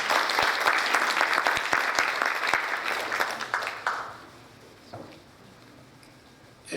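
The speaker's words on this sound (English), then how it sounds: "We all owe them a big round of applause for making UKC 2015 yet another big success." Applause from the audience at the UKC 2015 Korean-American scientists' conference: a steady wash of many hands clapping with a few sharp individual claps, fading out around the midpoint into near quiet with a couple of faint stray sounds.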